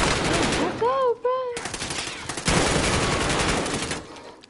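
Call of Duty gunfire rattles in rapid automatic bursts, loud and close, with a brief whistling tone partway through and sharp shots continuing to the end, and no talking.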